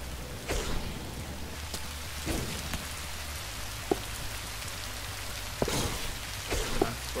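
Steady rain patters in a Minecraft Story Mode scene, a constant hiss with scattered louder drops and clicks throughout, no talk over it.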